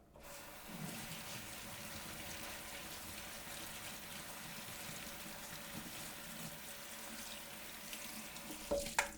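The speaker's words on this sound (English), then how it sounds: "I'm going to rinse it in cold water." Cold water runs steadily from a kitchen tap over farro being rinsed, a soft, continuous splashing hiss that carries on alone, ending with a brief clatter.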